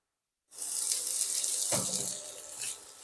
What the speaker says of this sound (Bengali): সামান্য একটু জল দিয়ে কষে নেব, যেন পাত্রের গায়ে লেগে না যায়